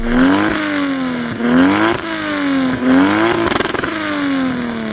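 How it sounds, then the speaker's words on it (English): A Mk4 Toyota Supra's turbocharged three-litre engine revs hard several times in succession, each sweep climbing then dropping, loud and close with a throaty mechanical tone. "All right, Ben, let's have a listen to your 3 litre turbo engine."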